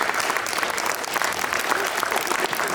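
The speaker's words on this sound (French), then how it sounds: "Vous pouvez applaudir très très fort Andrea" An audience at a magic show applauds loudly and steadily, a dense continuous wash of clapping throughout.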